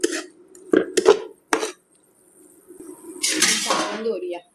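Garam masala and water being stirred in a cooking pot; a few close metallic clinks and scrapes of a spoon against the pot, then a louder, rougher stretch of stirring, with a voice heard around the clatter.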